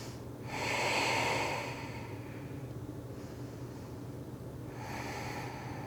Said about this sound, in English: Breathing here for 3 full rounds of breath.